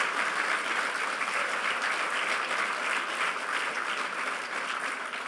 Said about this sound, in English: give a huge round of applause for the volunteers who have been working so hard to bring this to you